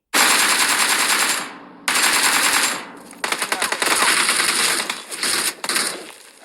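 Rapid automatic gunfire in the mobile battle royale game PUBG Mobile: loud, close bursts of rattling shots, a long burst, a pause, another long burst, then choppier bursts with short gaps, no talking.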